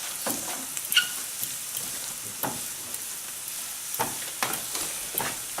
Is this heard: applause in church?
no